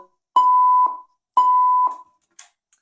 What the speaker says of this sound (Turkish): Ay alarmın sesi çok yüksek bir şey